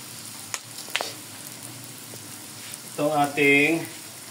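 Softened beef tripe for callos sizzles in a pan with a soft, steady frying hiss and a few clicks from stirring, and a voice speaks briefly near the end.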